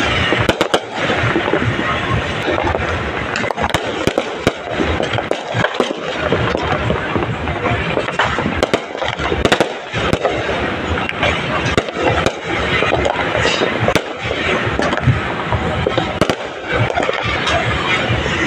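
New Year's Eve fireworks bursting in a residential neighbourhood, a dense, continuous stream of near and distant cracks and bangs over a noisy outdoor background, with some talking mixed in.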